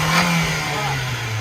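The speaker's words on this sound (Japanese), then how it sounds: "エンジンのアイドリングがどんどん下がっちゃってリ スポンスも悪くなる" Small Japanese kei truck engine idling roughly with a fault, a low steady hum whose pitch sags gradually over a brief moment, near and fairly loud, no speech.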